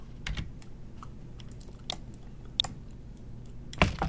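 Computer keyboard keys tapped while working in Blender modeling software, a few scattered soft clicks close by, with a louder cluster of keystrokes near the end.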